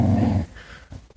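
A dog gives a short, low growl up close that stops abruptly after about half a second, followed by faint snuffling and quiet movement.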